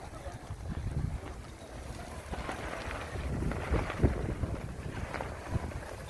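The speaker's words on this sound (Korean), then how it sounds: "오늘은 바람이 좀 많이 부네요." Strong wind gusts outdoors near the water, a steady low rumbling buffet on the microphone that swells and eases for about six seconds, with no talking.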